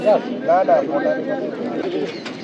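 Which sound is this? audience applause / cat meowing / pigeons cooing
pigeons cooing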